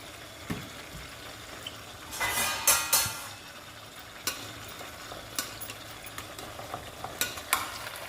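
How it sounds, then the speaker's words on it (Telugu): A spoon stirs tomatoes softening in a pan for Telugu tomato chutney, with gentle scraping and a burst of wet sizzling in the middle, then quieter intermittent stirring clicks. "టమాటాలని అప్పుడప్పుడు ఇలా కలుపుకోవాలి. కలుపుకుంటూ ఉడికించుకోవాలి మనం టమాటాలని."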